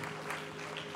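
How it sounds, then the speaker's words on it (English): A short burst of hand clapping from a church congregation during a Sunday worship service, steady and dense, with a faint hum underneath. "Give God a hand clap of praise."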